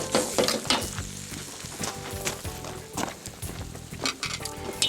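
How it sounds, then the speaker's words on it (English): Pork pan-fried noodles seasoned with soy sauce, salt, sugar and white pepper are stirred in a pan, with a spatula scraping and clacking in irregular strokes over a steady sizzle close by. "And then we'll just gently stir this up"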